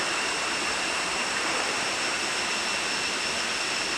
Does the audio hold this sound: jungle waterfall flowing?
yes